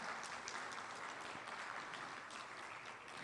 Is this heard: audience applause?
yes